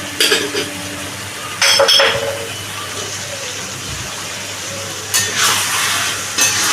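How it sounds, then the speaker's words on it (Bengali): Prawn and mixed vegetable curry stirred in a pan, with a spoon scraping and clinking against the metal in bursts over a steady low sizzle, close and moderately loud. "আবারও এটাকে আমি ভালো করে নাড়িয়ে নিচ্ছি"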